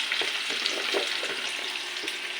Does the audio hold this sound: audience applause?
no